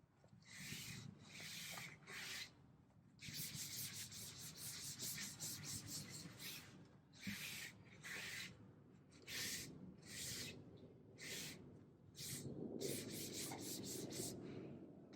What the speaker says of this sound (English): and then get onto the sanding.